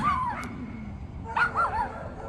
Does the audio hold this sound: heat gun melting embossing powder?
no